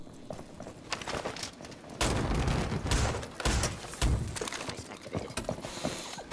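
Video game gunfire in a tactical shooter, rapid clusters of sharp shots and mechanical clatter in bursts, loudest in the middle, fairly close with brief gaps between volleys.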